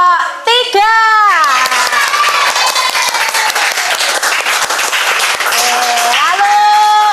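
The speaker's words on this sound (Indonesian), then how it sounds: "Beri tepuk tangan untuk kelompok 3." Classroom audience clapping for a performing group, loud sustained applause from many hands with a voice speaking over the start and end.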